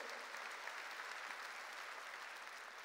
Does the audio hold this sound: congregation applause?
yes